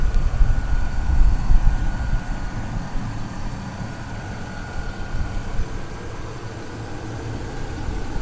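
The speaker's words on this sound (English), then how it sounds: "Engine's nice and quiet." A rust-free 1999 Chevy Suburban 3/4-ton 4x4 idles with a low, steady engine rumble, a little louder for the first second and a half and then even and quiet with no one talking.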